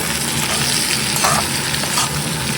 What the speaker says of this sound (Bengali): ভালো করে তেলে ভাজবো।